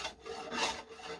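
A hand rasp files a wooden handle, the close, coarse scraping strokes repeating steadily one after another with no voices.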